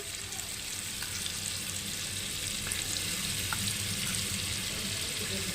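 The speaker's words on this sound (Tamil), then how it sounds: "பாருங்க இஞ்சி பூண்டு பேஸ்ட் போடுறேன்" Ginger garlic paste frying in a pan for chana masala, giving an even, continuous close sizzle and crackle from start to finish.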